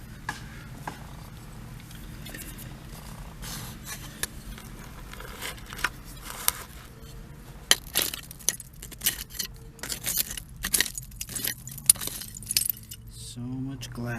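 Glass bottles clinking and knocking together during a dig for antique bottles at the old Raleigh dump, with scattered sharp chinks and clatter growing busier toward the end over a low outdoor background.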